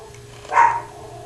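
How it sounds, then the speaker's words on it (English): A pet dog named Zoe gives a single short bark in the background of an indoor room, a brief mid-pitched burst that stands out over quiet ambience. "The dog's barking."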